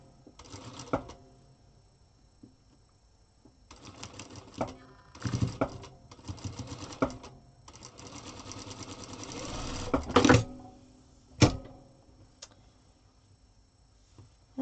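A sewing machine stitches quilt pieces together in short bursts of rapid mechanical whirring and clicking, separated by pauses, close and fairly quiet with no voices.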